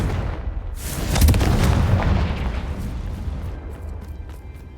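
Fiery spell blasts from Confringo in Hogwarts Legacy, a deep booming burst swelling after a second and rumbling on loudly with crackling tails, no talk over it.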